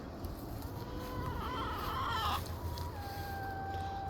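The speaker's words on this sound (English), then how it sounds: "Hi, chickens." Chickens in a backyard garden cluck and croon softly at middle distance, with a few drawn-out calls standing out over a steady outdoor background.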